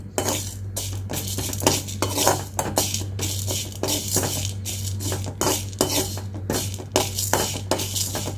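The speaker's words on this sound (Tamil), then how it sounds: "இது வந্து கருகிறாமல் ஒரு பத்து நிமிஷத்துக்கு இதை அப்படியே கைவிடாமல் கிண்டி விட்டுக்கலாம்" Mint chutney ingredients dry-roasting in a pan are stirred continuously, a rapid rhythm of loud metallic spoon scrapes and clinks against the pan, close and busy with no voices.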